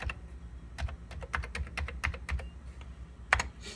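Keys clack on a Commodore computer keyboard as a modem command and password are entered, a close series of quick, irregular taps with a firmer press near the end.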